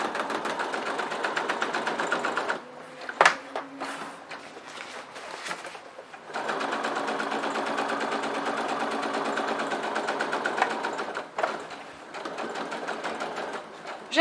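A sewing machine stitches fabric for a DIY shopping bag, running in steady, close bursts with a brief pause and a small clunk midway before the motor hums on again.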